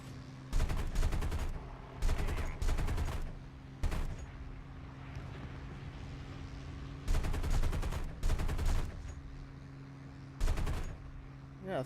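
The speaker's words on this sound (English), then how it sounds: "37mm cannon in the front" A nose-mounted 37mm cannon on a War Thunder fighter plane fires in short repeated bursts of heavy thumping shots over a steady engine drone, with pauses between bursts.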